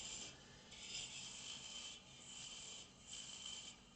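A 9mm carbide chisel cuts into wood spinning on a lathe, giving a loud, steady scraping rasp in several sustained passes with short gaps between them, close and without talk.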